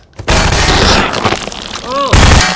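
A loud boom from an SMG grenade blast in the video game Garry's Mod while fighting zombies on an aircraft carrier, heavy and sustained, with a brief rising tone and voices close over it.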